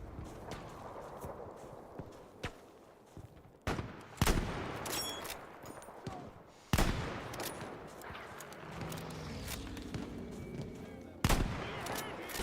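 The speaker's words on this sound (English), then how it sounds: "What is that shooting up there?" Gunfire in the Battlefield 5 video game: sharp, loud shots crack at irregular intervals over a dense background of distant battle noise, with bursts of rapid fire between the louder single reports.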